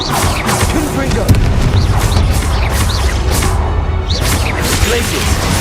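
Confringo blasting spell explosions in the video game Hogwarts Legacy, loud booming bursts and crashes layered over busy combat effects, with voices shouting over them.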